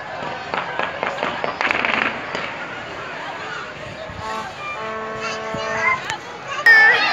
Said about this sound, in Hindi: आतिशबाजी का भी मुजाहरा पेश किया जा रहा है।